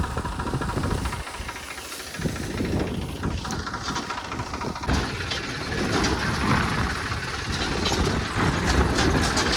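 Tractor engine running on a farm field, a loud continuous diesel rumble that grows slightly stronger through the clip.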